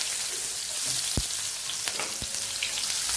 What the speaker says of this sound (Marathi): कांदा आपल्याला व्यवस्थित परतून घ्यायचा आहे